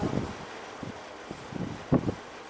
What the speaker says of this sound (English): Oh, big gust of wind.